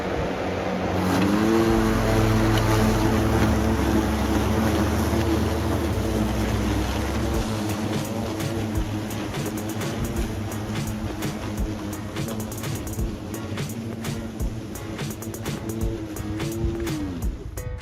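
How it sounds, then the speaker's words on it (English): Ego Select Cut XP and Milwaukee battery lawn mowers run together, a steady loud motor whir with shifting blade hum across the whole stretch, no talking. "I'm gonna mow with both mowers at the same time"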